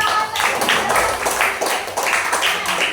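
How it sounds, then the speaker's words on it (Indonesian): A class gives applause to a student group after its presentation, with a steady patter of clapping that pulses in waves, moderately loud and close, with faint voices mixed in. "Tepuk tangan untuk kelompok 2."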